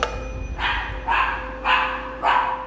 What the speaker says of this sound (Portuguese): O cachorro latiu.